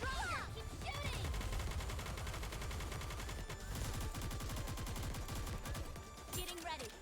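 Rapid automatic gunfire in the anime shooter game Goddess of Victory: Nikke, a dense continuous volley of shots with game music and effects, a voice speaking briefly over the battle.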